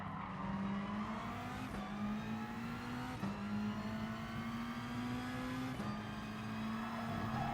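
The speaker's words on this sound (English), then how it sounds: "Overtake that Honda NSX, braking hard for the next corner." A Honda NSX race car engine in Gran Turismo Sport whines as it climbs through the gears, the pitch rising steadily and dropping sharply at each of several upshifts, close and continuous.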